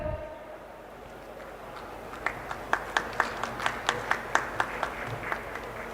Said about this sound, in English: A big round of applause for architect Nimrat